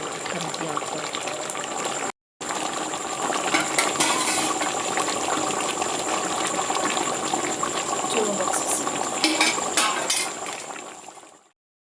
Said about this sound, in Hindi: फिर ये पकता रहेगा, सारी रात पकता रहेगा।